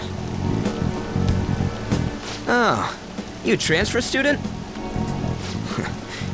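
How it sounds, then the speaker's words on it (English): Rain falls in the video game Persona 5 Royal, a steady soft hiss running beneath game music and a brief spoken line from a character. "This rain ain't too bad."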